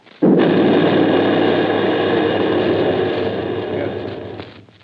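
A film artillery gun fires once, a sudden loud boom that rolls out into a long, slowly fading rumble lasting several seconds, with no voices over it.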